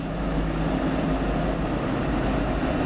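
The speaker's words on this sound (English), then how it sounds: "there's a plane somewhere up in the sky" A steady distant engine drone hangs in the air at a railway station, a plane passing high overhead with a constant low rumble.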